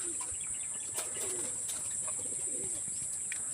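Homing pigeons returning to their loft coo softly in low, repeated calls, with a few flaps and chirps over a steady high background hiss.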